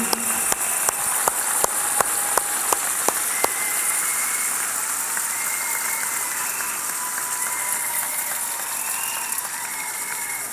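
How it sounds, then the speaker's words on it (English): Audience applause for teachers at a school district general assembly: a few sharp clicking strokes at first, then a sustained, even roar of clapping from a large crowd. "Round of applause for all of our teachers in the room"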